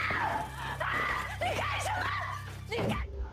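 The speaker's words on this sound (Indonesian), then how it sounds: "seketika ia langsung menjerit histeris" A woman screams hysterically in a drama film about an MMA fighter, with shrill rising and falling cries across most of the clip over a steady low hum.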